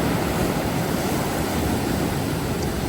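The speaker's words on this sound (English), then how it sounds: "Secret Cove Beach in Makena" Ocean surf at Secret Cove Beach in Makena, Maui, a steady, loud roar of breaking waves with wind buffeting the microphone and no voices.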